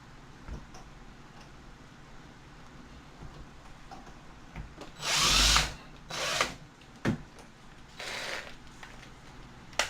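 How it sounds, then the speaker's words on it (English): A handheld power drill drives into a bathroom vanity during installation, with several short bursts of whirring, the longest and loudest near the middle, separated by quiet pauses. "drill it."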